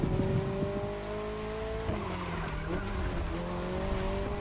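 A McLaren hypercar races in The Crew Motorfest video game, its engine droning steadily with a pitch drop as it shifts, tires squealing briefly midway, a continuous close engine tone throughout.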